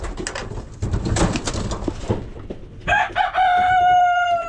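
Chickens cluck and scuffle nearby, then a rooster lets out a loud, drawn-out crow near the end.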